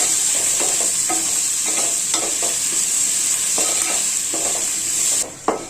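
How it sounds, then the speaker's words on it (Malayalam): Onions sautéing in a pan toward brown for a duck roast, a loud continuous sizzle broken by regular scraping strokes of a spoon, close up, ending with a brief knock. "എന്നിട്ട് നല്ലപോലെ ഇളക്കി കൊടുത്ത് വഴത്തി ഒരു ബ്രൗൺ കളർ അങ്ങോട്ട് ആക്കി കൊടുക്കാം."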